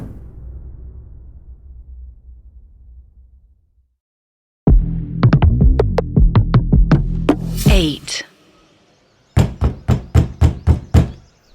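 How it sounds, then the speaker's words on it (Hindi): Loud banging on a main door comes as two rapid series of heavy knocks, a long dense run followed after a pause by a shorter burst, preceded by a low fading rumble and then silence. "अचानक इतनी जोर से मेन डोर बजा कि हमें लगा जैसे पुलिस आ गई हो।"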